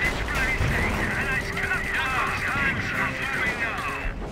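An artillery barrage in a Company of Heroes World War I mod battle, with dull booms and gunfire rolling through a loud, busy battle mix while someone talks over it.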